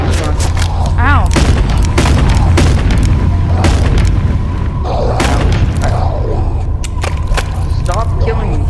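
Rapid bursts of gunfire and booming shots from the VR game Animal Company during a circus update, with sharp repeated blasts over constant background noise while players chatter.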